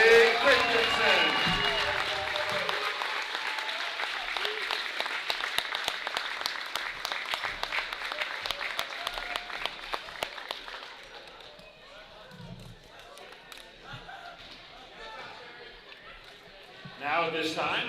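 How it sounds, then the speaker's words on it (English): A crowd in a school gym at a basketball game applauds a senior wrestler, a long run of clapping that fades, with talk and a scattered thump or two after it. "Let's stand up and give a round of applause for our senior wrestler, Joby Christensen."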